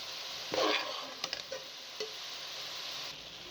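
Cauliflower and potato sabzi stirred in a pan, with a burst of scraping and sizzling near the start, then a few light clicks of the spoon against the pan over a soft, steady background hiss.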